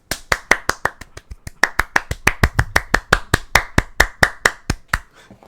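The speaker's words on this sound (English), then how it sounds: "Everyone clap it up for them." A few people clap for an esports team of the week on a gaming podcast, giving a quick, even run of about two dozen crisp, close claps that trail off at the end.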